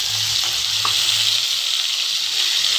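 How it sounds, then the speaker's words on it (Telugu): Dried red chillies and soaked dal hitting hot oil in a kadai, giving a steady bright sizzle with faint stirring scrapes, close and continuous with no voices. "స్టవ్ ఆన్ చేసి కడాయి పెట్టుకొని ఎండిన మిరపకాయలు,"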